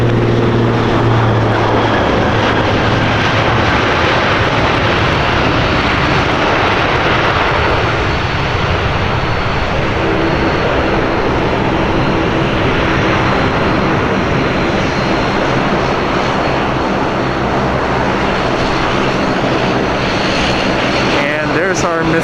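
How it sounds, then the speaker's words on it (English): A freshly built and freshly painted Boeing 737 taxis at Portland airport, its jet engines a loud, constant roar that fills the whole stretch, close and steady, with some talk beneath it. "There's our mystery 737 taxiing our way."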